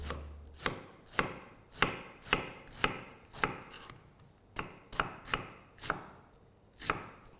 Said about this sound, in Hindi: इसको भी ऑब्वियसली उसी साइज में काटेंगे